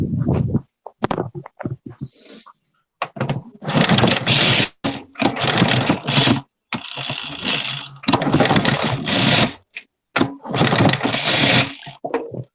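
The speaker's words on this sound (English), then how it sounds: "see if I can get this motor started." Repeated pull-starts on a small engine motor that fails to fire, bursts of ratcheting recoil-cord pulls and mechanical rattling in uneven bursts, with short silent gaps between attempts.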